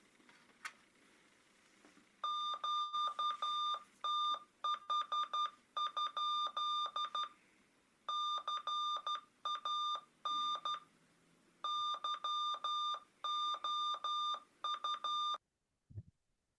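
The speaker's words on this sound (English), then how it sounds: "Here's a test of the Sonobuoy Fox transmitter." Arduino-controlled Sonobuoy Fox hunt transmitter sending a test signal: crisp, loud electronic beeps in rapid clustered bursts separated by short pauses, repeating over quiet background and ending abruptly.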